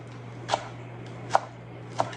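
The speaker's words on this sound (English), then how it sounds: "I'm just going to cut it in thin strips" A knife slicing raw food into thin strips on a cutting board, three crisp separate cuts spaced about half a second apart, close and clear over a low steady hum.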